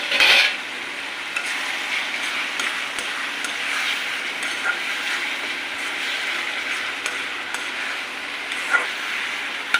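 Tomatoes cook down in a pan with a steady soft sizzle, broken by occasional metallic clinks of a utensil against the pan, with no talking.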